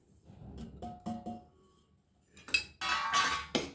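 Coarsely ground spices and cooled oil for a traditional chili pickle are stirred with a spoon, soft clinks and taps against the bowl giving way to louder scraping and mixing near the end.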